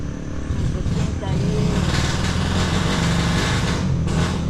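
A loud motorcycle engine idles and revs close by in a steady, buzzing drone throughout, with people talking in the background.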